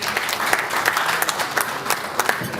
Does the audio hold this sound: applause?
yes